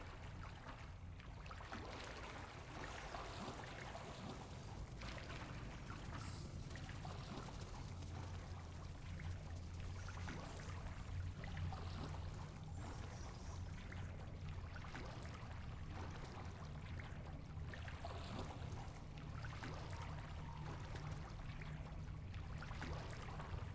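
A character swims through water in Hogwarts Legacy, making continuous splashing and sloshing strokes in a soft, rhythmic wash, faint and close, with no speech.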